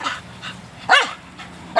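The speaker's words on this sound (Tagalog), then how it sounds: "Tahol-tahol" A dog barks twice, sharp and fairly close, with a soft whimpering sound between the barks.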